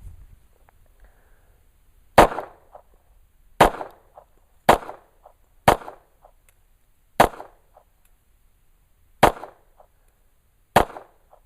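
Seven sharp pistol shots from a Nighthawk Custom T3 1911, fired one at a time with gaps of about one to two seconds, each a loud crack with a short ringing tail over a quiet range background.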